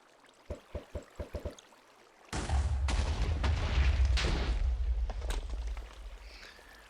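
Double nether star TNT detonating in Minecraft: a short run of quick ticking pops, then a sudden massive explosion that roars loudly for several seconds before slowly fading.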